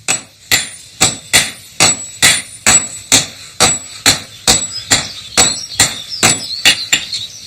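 Blacksmiths hammer hot iron flat on an anvil to form a stirrup shape, a dozen sharp ringing blows at a steady rhythm roughly every half second, close and loud with no speech.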